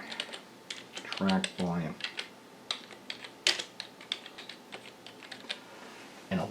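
Keys tapped on a computer keyboard while entering a search into the action list of Reaper audio software, with sparse, irregular clicks through the clip and brief speech near the start.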